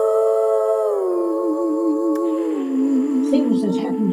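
A voice imitates a wolf-like howl in a slow, sustained, wavering tone that slides downward and ends in breathy vocal sounds, performed as part of a spoken-word piece about a storm.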